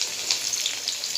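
Dry chillies frying in hot oil give a steady, faint hiss with small crackles scattered through it, heard alone without talk.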